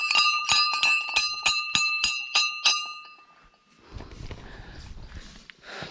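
A hand-rung bell at a Maa Bhagavati temple beside an ever-flowing spring strikes about eight times in quick, steady succession, bright and close. It falls silent, leaving soft rustling and shuffling footsteps.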